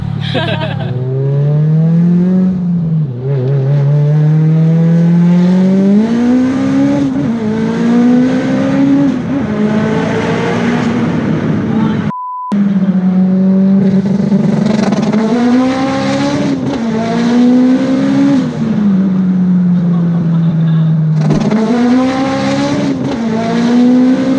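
A loud turbocharged 808 hp Mitsubishi Evo VIII engine revs up and down repeatedly, with crackling anti-lag pops from the exhaust between pulls and a brief cut partway through.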